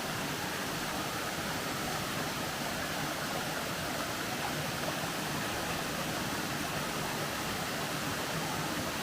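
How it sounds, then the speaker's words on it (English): Nancytown Falls in Habersham County, Georgia, heard from close below after Hurricane Helene: a steady, dense roar of falling water fills the whole clip evenly, loud and unbroken, with no voices. "But it's a beautiful waterfall here in Habersham County,"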